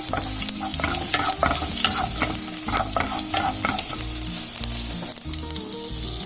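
Garlic and red chilies frying with urad dal in hot oil, a loud, dense sizzle with rhythmic stirring scrapes and clinks, close and continuous with no talking.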